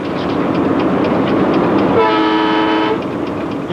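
Korean Saemaeul express train in motion, a continuous rumble of wheels on rails, with a loud horn blast sounding for about a second midway through.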